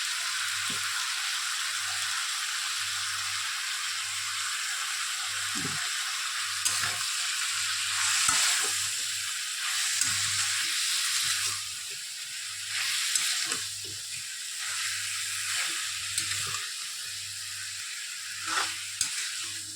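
Ground spice paste of ginger, cumin, coriander, dried chili and turmeric frying in a pan for a cucumber curry, a steady bright sizzle broken by repeated scraping stirs, close and continuous, with a faint low rhythmic hum underneath.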